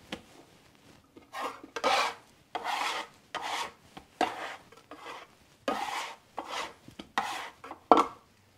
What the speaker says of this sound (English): Give it a good stretch. Fold it in thirds.